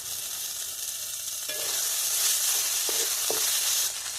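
Tomatoes and green chilies sizzle in a pan with coriander, turmeric, salt and a little sugar, a steady loud hiss that swells slightly, broken by a few faint stirring clicks.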